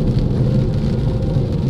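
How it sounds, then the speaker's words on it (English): Heavy rain drumming on a car while driving on a rough road in Scotland, a dense steady wash of low rumble and patter, with no voices. "it is raining quite hard now"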